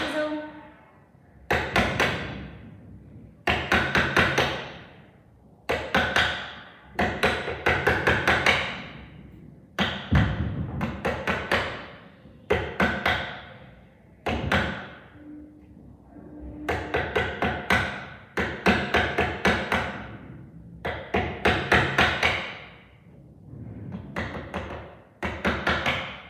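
A hammer strikes a chisel while shaping a race car part, in repeated bursts of rapid, ringing taps separated by short pauses, close and fairly loud throughout.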